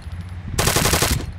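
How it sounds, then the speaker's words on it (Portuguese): Rapid automatic gunfire aimed at a vehicle tire in the military game Arma 3, a loud close burst of about eight fast, evenly spaced shots lasting over half a second, following a brief quieter lead-in. "Pode atirar no pneu."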